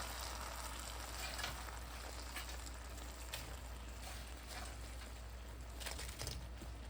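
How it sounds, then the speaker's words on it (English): Catfish nuggets and shrimp frying in hot oil, giving a steady, dense sizzle with faint crackles that runs continuously at moderate volume, with no voices. "See that beautiful fry?"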